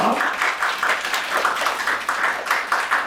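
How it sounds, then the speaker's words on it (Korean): A camp concert audience claps in a steady, moderately loud round that fills the whole stretch, with a few voices faintly underneath. "박수 한번 부탁드리겠습니다."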